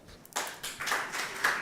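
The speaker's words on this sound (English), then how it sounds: "big applause." Conference audience applause breaks out after a closing thank-you at a research meeting, a short burst of many hands clapping at moderate distance that swells and continues for about a second and a half.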